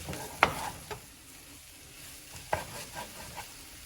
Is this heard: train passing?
no